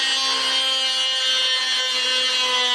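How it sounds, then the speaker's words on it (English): A high-pitched Dremel 8240 rotary tool whines steadily at close range while cutting on an old Ski-Doo Touring snowmobile, a constant buzzing motor tone with faint grinding, uninterrupted for the whole stretch. "This is a Dremel 8240, and this is like the perfect tool for this job."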